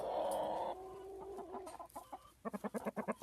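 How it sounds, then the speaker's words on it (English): Chickens in a backyard coop with several roosters, a long crow-like call fading into scattered clucks, then a quick run of rhythmic clucking, fairly faint and close, with no talking. "And we have 5 roosters in here."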